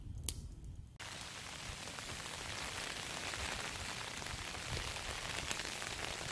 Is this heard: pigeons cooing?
no